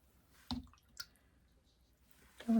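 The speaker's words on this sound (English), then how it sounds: "You can also dab water like that on the page." A brush dabs water onto watercolor paper in two or three soft, wet taps close by, each a brief moist pat separated by quiet, the last a little fuller.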